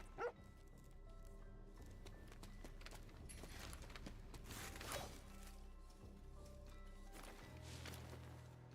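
A dog barks a few times in the video game Beast of Reincarnation, faint short yaps scattered over quiet game sounds.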